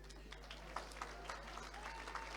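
An awards-ceremony audience claps with scattered, distinct hand claps over a low steady hum, moderately distant and fairly quiet, with individual claps standing out rather than a dense roar.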